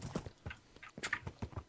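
Horse hooves clip-clop in Minecraft, a quick, steady run of several distinct, fairly close footfalls with no voices over them.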